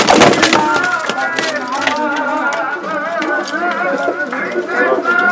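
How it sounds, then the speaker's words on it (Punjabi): Pure Malwai pigeons, a Punjab champion flying breed, coo in a low rolling murmur close by, with a few sharp knocks at the start and some faint talk mixed in. "ਮਲਵਈ ਹੈ ਜੀ ਸਾਰੇ ਕਬੂਤਰ"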